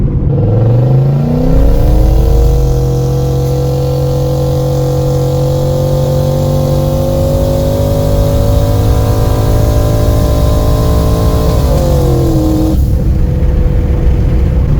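A boosted car fitted with big fuel injectors accelerates hard, its engine tone rising steadily in a loud, sustained roar up through the revs before easing off near the end, with no talk over it.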